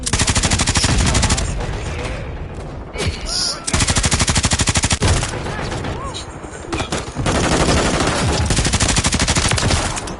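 Loud, sustained automatic gunfire in Call of Duty Modern Warfare 3, long machine-gun bursts broken by short pauses and stray single shots, with game voices faintly underneath.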